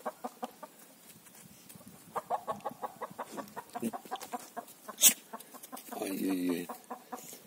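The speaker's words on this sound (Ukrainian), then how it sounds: "Курку перелякали." A frightened chicken clucks in quick, agitated bursts on a farmstead, with a louder squawk partway through; a voice exclaims over the final stretch.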